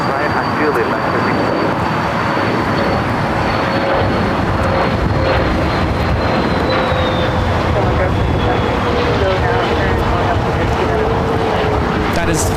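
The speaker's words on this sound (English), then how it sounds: "That is FlexJet 383 taking off to San Francisco on the Phenom 300" A FlexJet Phenom 300 business jet takes off at LAX with a loud, sustained engine roar and rising whine that holds steady throughout, heard up close and without talk.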